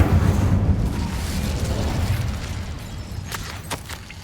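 An Incendio fire spell cast in Hogwarts Legacy, heard as a loud, rumbling burst of flame that swells and slowly fades, with a few crackling pops near the end and no speech.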